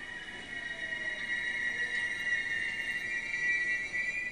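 Auckland commuter train running between New Lynn and Newmarket: a steady rolling rumble under a sustained high-pitched wheel squeal, moderately loud and continuous throughout.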